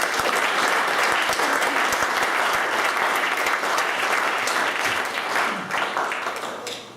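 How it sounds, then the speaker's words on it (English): Dense audience applause fills the hall, a loud, continuous wash of many hands clapping that holds steady before tapering slightly at the end. "So give Tref a clap"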